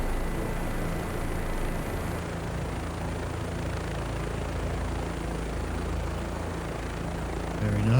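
A helicopter in the flight simulator DCS World, flying over Paris, gives a steady rotor and turbine drone that holds throughout at moderate level, with no talk over it.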